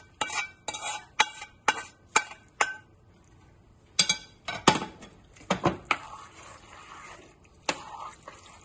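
A spoon stirs risotto with parmesan, butter and lemon juice in a pan: quick scraping, clinking strokes in one run, a pause, then another cluster of stirs, close and moderately quiet.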